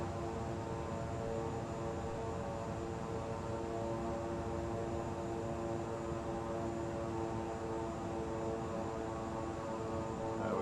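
An airliner lands at LaGuardia in Microsoft Flight Simulator 2020, its engine drone a steady, dense roar with a constant tonal hum, unbroken and even for the whole stretch with no speech.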